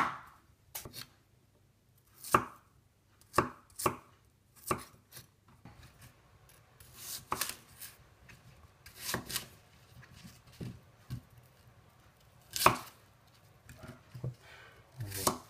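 Extrema Ratio Psycho15 tactical knife chopping onions for the oven, irregular crisp cuts and taps against a board, sometimes in quick pairs, fairly close and quiet with pauses between.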